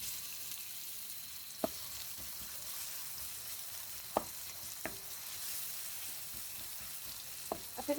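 Fish sizzling in mustard oil in a pan, a steady soft frying hiss throughout with a few sharp crackles and spits, heard up close with no talking.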